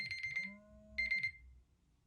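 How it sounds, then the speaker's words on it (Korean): A classroom lecture timer going off: two short bursts of shrill electronic beeping separated by a pause, with a lower tone between them, fairly faint in a quiet room. "예, 타이머입니다. 타이머."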